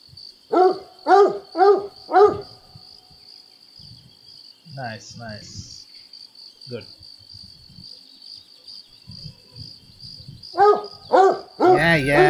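A hunting dog barks in theHunter: Call of the Wild, a run of four sharp barks followed later by two more, set against a constant insect-like drone and occasional faint game sounds.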